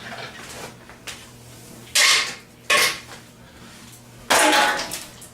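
Ice cubes get tossed into a blender jar, giving three sharp clattering bursts of hard cubes hitting the container at irregular intervals, close and fairly loud against a quiet room.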